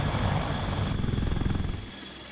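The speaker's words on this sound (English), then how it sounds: "This heavy-lift cargo helicopter is the biggest helicopter ever built." A Sikorsky CH-53K King Stallion heavy-lift cargo helicopter thunders with a deep, rapid rotor thumping and engine roar, loud and close, then fades off toward the end.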